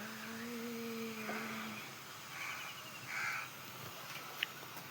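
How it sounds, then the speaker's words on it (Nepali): A crow caws a few times in an outdoor setting among green fields where organic tepal pepper grows, the calls fairly faint and distant over steady background noise. "काग।"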